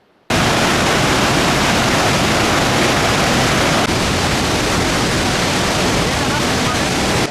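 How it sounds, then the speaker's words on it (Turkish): Tortum Waterfall pours at its highest flow in a decade, a dense, loud, unbroken roar of falling water that fills the whole clip steadily from a close vantage point. "Son 10 yılın en yüksek debisiyle şu an Tortum Şelalesi akmakta."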